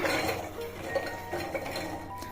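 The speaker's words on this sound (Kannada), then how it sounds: "ಮೊದಲಿಗೆ ನಾನೊಂದು ಮಿಕ್ಸಿ ಜಾರ್ ತಗೋತಾ ಇದ್ದೀನಿ." A few light clinks and knocks of a mixer grinder jar being handled on a hard surface, close by and fairly quiet.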